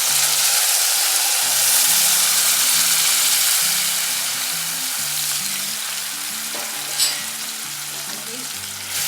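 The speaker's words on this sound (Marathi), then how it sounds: "आपण बघू शकता छान त्याला वाफ आली आता हे पाणी आत घालायचे" Hot water going into a thick-bottomed pan of drumstick zunka made with gram flour, giving a loud, continuous frying sizzle up close with a sharp flare near the end.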